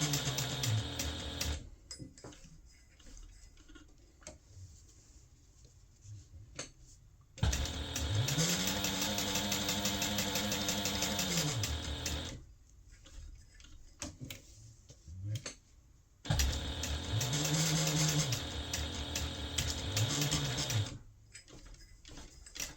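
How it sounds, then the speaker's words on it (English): A domestic sewing machine stitches a card slot onto a notepad holder in Tech 70 thread, two loud bursts of rapid mechanical whirring and ticking separated by quieter pauses, close to the microphone. "Now we're just going to sew the card slot in place using a 1/8 inch seam allowance"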